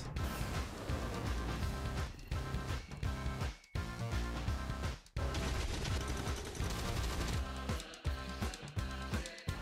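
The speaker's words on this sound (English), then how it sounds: "Explosions!" A Nintendo Switch game trailer plays dense, loud rapid gunfire and explosion bursts over a driving musical score, continuous for about ten seconds with brief pauses between volleys.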